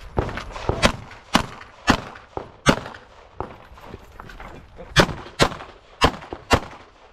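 Pistol shots at a USPSA practical shooting match stage on a hot day, a string of loud, sharp reports fired in uneven bursts and pairs, close to the listener, with no talk.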